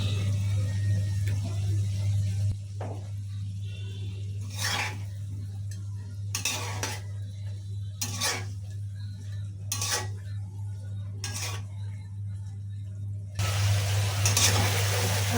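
Potato pieces being sautéed in a pan with a hilsa fish head while pumpkin greens wait to go in, a steady low hum and soft frying noise beneath, broken by several sharp stirring scrapes and clinks of utensil against pan.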